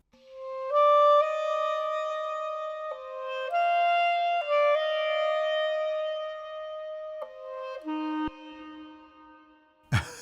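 Clarinet played through an AIR Studios room reverb with a stretched long tail, a slow legato phrase of held notes blooming into a lingering wash before a short low note and a closing click.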